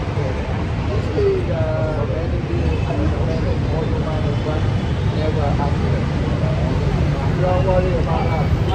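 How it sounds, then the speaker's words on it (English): Dense street traffic on a busy road in Vietnam, with a steady rumble of engines and scattered horns, under continuous nearby talking and background chatter. "Crazy traffic."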